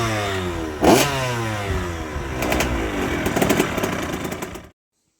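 A rebuilt 2005 KTM SX 85 two-stroke motocross engine, fitted with a new exhaust gasket, revs loudly up close in repeated rising blips, then cuts off abruptly.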